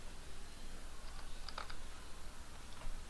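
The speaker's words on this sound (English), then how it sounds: "I don't know if I can type that in there" Typing on a computer keyboard, a handful of quick, light key clicks in a short burst and then a couple more, close but quiet over a steady background hiss.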